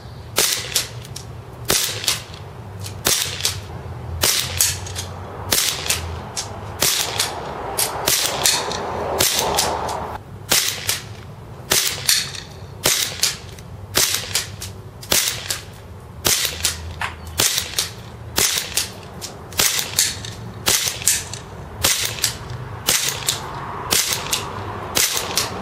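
Cybergun KJW Sig Sauer P226 airsoft pistol fired again and again at a 4-inch target 100 feet away: sharp snapping shots in a steady, closely spaced series, each crack loud and near, with no talk.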